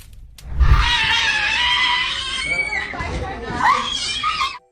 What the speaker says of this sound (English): a young woman suddenly started screaming and shouting, lashing out at others around her